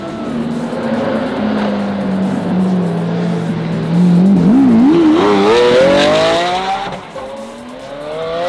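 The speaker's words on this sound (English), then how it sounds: "Here we go, more tunnel blasts." A supercar at a rally blasts its exhaust inside a tunnel, the loud engine note droning steadily then climbing in wavering revs as it accelerates, booming with tunnel echo.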